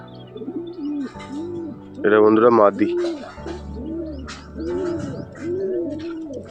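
Madras-breed domestic pigeons kept at home coo in repeated rolling phrases, close and clear, while someone talks over and between the calls.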